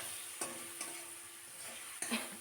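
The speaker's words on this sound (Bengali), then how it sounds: "হালকাতে নাড়াচাড়া করে নিচ্ছি।" Spice masala being stirred and fried in oil for a Bengali egg curry, a soft steady sizzle broken by a few scraping strokes of the spoon, close and alone.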